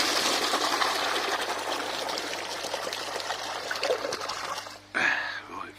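Water gushes and trickles steadily as an aquarium filter tank that has been bubbling is flushed out, a continuous pouring wash that dips briefly near the end before a final surge.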